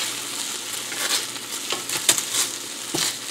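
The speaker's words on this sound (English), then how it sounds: "let's just flip them one more time while the pan is still hot for a little extra browning goodness." Turkey breakfast sausage patties sizzle and fry in a hot pan, giving a loud, continuous close crackling hiss with a few scraping stirs and flips, and no talk.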